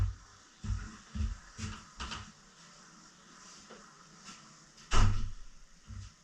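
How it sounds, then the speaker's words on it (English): An interior door is closed by hand in a house where an old chimney breast is being blocked up and plastered, giving a few soft thumps and knocks followed by one louder, nearby bang. "I'm going to close this door."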